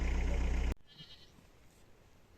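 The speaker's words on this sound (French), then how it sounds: "Donc nous voilà arrivés aux chèvres" A loud, wavering bleat from a farm goat fills the first moment and cuts off abruptly, leaving a quiet outdoor background with faint distant sounds.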